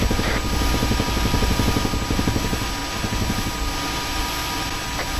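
A helicopter's rotor in Arma 3 thumps steadily in a loud, continuous chopping drone with a high whine on top, pulsing rapidly throughout.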